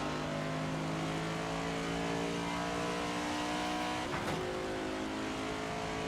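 A race car engine in the NASCAR 25 video game drones steadily and loudly with rising harmonic tones as it accelerates, with a brief sharp sweep near the end, and no talking over it.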